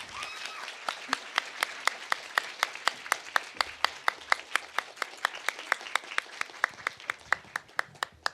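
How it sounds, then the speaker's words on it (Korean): An audience at a Ministry of Foreign Affairs special lecture for college entrance exam students claps to welcome the speaker, with a steady run of crisp, evenly spaced claps that carry on unbroken. "여러분 뜨거운 박수로 맞이해 주시기 바랍니다."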